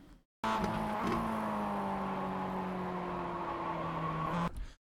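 Mazda MX-5 race car in iRacing braking and downshifting on track entry: a sustained engine drone with falling pitch as revs drop through the gears, steady and close, ending abruptly.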